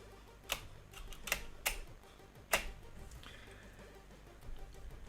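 Hard, forceful typing on a computer keyboard while coding a game, heard as a few loud separate key strikes spread across the moment, fairly close, with quiet gaps between them.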